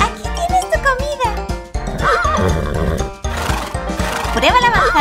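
A toy pony gives loud, shrill electronic neighs and whinnies over a steady clip-clop beat and jingly music, continuous and close throughout.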